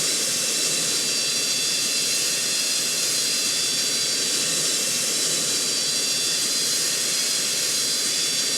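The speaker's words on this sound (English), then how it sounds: "Engine 2 is starting up." A jet airliner engine in the Roblox game Project Flight spools up with a steady, loud high-pitched whine and roaring hiss that holds constant throughout, with no talking.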